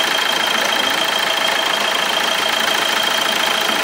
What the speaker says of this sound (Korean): 자, 이제 시동이 걸렸어요.